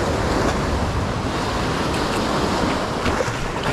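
Big ocean waves surge against a seawall as a steady, loud roar of surf and wind fills the scene without pause.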